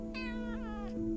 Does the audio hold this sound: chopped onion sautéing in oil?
no